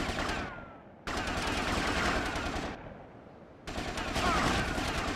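AK rifle gunfire in GTA Vice City Stories, sustained automatic bursts in three long stretches separated by brief lulls, loud and dense with faint game background between.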